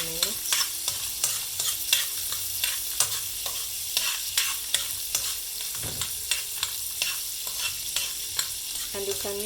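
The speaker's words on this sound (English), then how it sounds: "Add your groundnuts and then cook for 2 to 3 minutes." Groundnuts cooking in a little melted margarine, with steady stirring scrapes and taps of a utensil over a constant close sizzle, no talking.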